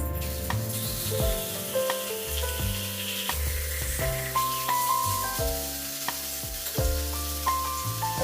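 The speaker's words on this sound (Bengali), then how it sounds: "এবার মানে কড়াইয়ের মধ্যে দিয়ে দেবো আর কড়াই ভালোইভাবে গরম হয়ে গেছে তেল উড়ে যাচ্ছে" Fish fries in hot oil in a kadai, a continuous close sizzle and crackle with occasional stirring scrapes, while steady tonal sounds run underneath.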